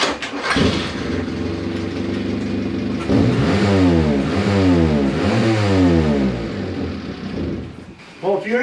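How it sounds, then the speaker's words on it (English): A 1988 Ford Festiva with a holed muffler revs hard, its loud, raspy exhaust climbing and falling in repeated sweeps before settling back toward idle near the end. "Does your Festiva, or any other car for that matter, sound like this?"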